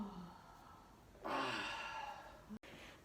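A single long, breathy exhalation pushed out during a qigong breathing exercise, fairly close and soft, rising suddenly and trailing off before a brief cut, following a faint earlier breath.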